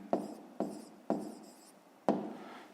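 Handwriting on paper during a fifth-grade maths exercise, four short scratchy pen strokes, each starting sharply and trailing off, close and fairly quiet with no talk.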